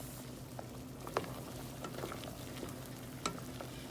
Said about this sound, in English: they've already started stirring around in there